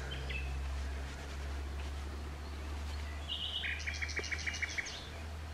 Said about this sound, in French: Il y a de plus en plus de vivants, quoi, d'oiseaux, des choses comme ça de partout. On les entend d'ailleurs.